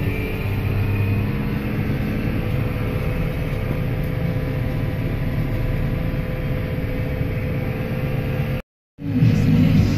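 A tractor labors up a hill on a farm during corn shelling, its engine holding a loud, continuous low drone with a steady hum that cuts out briefly near the end before resuming.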